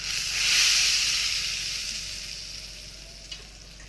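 Hot spiced oil tempering poured into fresh coconut chutney sizzles loudly at first, then settles into a softer, fading hiss close by, with no voices.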